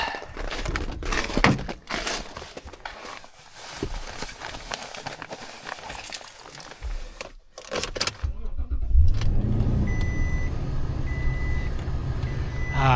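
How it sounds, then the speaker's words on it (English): A truck engine runs steadily from inside the cab on a windy Alaskan winter day, with a low rumble rising in the second half as the heater comes on and wind noise buffets around it. "So I'm gonna get back into the warm truck, turn on the heat,"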